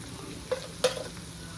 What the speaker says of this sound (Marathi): चांगलं मिश्रण करून घ्यायचं होतं.